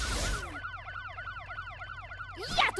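A cartoon police siren wails in a fast, repeating up-and-down pattern. It comes in after a short noisy burst and keeps cycling steadily, then a brief clatter closes it out.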